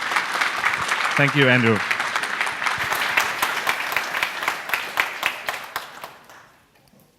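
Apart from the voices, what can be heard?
audience applause for conference speaker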